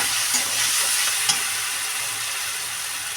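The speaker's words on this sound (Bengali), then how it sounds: "দেখো মশলাটা কিন্তু চিরাই ভাজা হয়ে এসেছে" Masala of tomato and spices fries in a pan on low gas, giving a steady, loud, dense sizzle with a brief stir or scrape partway through.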